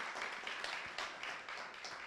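Applause for a young drummer at a talent show finale, a soft, steady wash of clapping with a few sharper bursts, fairly distant and continuous throughout.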